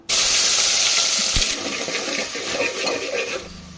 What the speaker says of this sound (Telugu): నూనె అయితే బాగా వేడైంది కదండి ఇంక ఉల్లిపాయలు కట్ చేసుకున్నాం కదా ఉల్లిపాయలు వేసుకుందాం